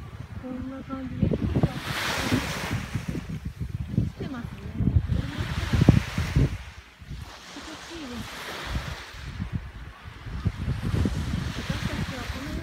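Strong wind buffets the microphone on the Seto Inland Sea coast in gusty, rumbling surges, with waves washing in and out in slow swells several seconds apart.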